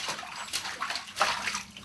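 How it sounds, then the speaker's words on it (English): Bath water in a big tub for a baby, with a steady close wash of sloshing and lapping and a few brief louder swells. "Evie's first bath in the big tub."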